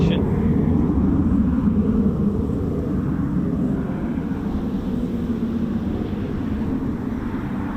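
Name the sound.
RAF F-35 Lightning jets flying in formation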